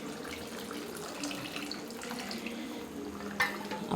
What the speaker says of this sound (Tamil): இப்போ புளி கரைச்சி ஊற்றிக்கலாம்.